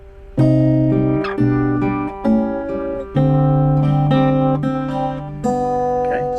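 Picked acoustic guitar chords in a steady rhythm, including the open third string, notes ringing and overlapping, played close and clear with no talking.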